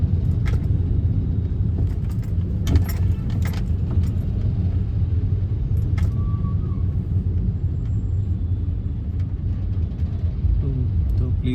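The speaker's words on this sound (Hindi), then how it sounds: "ये ट्रैफिक थोड़ा सा हेक्टिक होता है बट अभी एकदम मूविंग है" Slow-moving road traffic on the route from New Delhi to Gurgaon, where four or five lanes narrow to two, heard as a steady low engine rumble and road noise from inside a car, with faint clinks and light rattles throughout.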